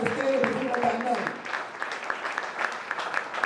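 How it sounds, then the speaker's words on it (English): An audience at a mosque talk claps in a steady patter of applause that fades from a denser start to a thinner spread of hands, with a voice speaking over the opening. "Let's give them a round of applause."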